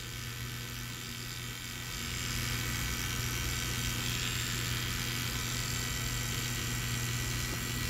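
Oster Octane detachable-blade hair clippers buzz close up during a skin fade taper with a 1A blade, a steady electric drone that swells louder after a couple of seconds and holds evenly.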